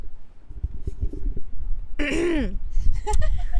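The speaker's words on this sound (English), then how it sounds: "Let me just clear my throat for that one." A sharp throat-clearing burst stands out amid low background talk, followed by a voice speaking again.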